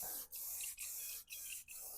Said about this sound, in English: I'm going to spray it now.